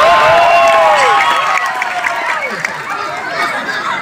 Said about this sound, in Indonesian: Tepuk tangan buat bapak-bapak.